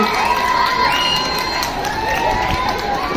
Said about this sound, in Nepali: Please give him a big round of applause from their house.